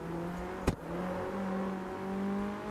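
A car pulls steadily in third gear, its engine a faint, smooth sustained drone with one brief sharp knock or click near the start.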